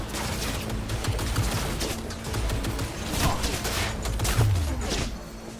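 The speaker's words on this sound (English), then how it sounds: "Oh, I'm dodging bullets." Dense rapid gunfire from a firefight in the video game Cyberpunk 2077, a continuous loud clatter of shots with mechanical clanks running throughout, with no pauses.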